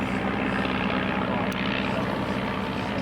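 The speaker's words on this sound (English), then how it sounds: "Biplane." A biplane drones overhead as a steady, broad engine roar with no breaks, holding an even level for a few seconds.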